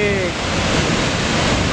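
Niagara Falls waterfall roaring as a loud, dense, continuous rush of broadband noise with wind buffeting the microphone, heard alone without talk.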